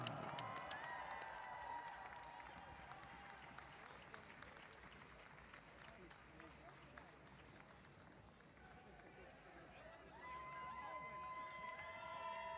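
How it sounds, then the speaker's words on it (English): A crowd at a Saturday Night Rumble bike race applauds and cheers the winner. The clapping and cheering are faint and steady, with talking and some tonal sounds layered over it, swelling again near the end. "Round of applause."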